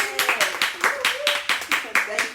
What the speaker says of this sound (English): Just give her an applause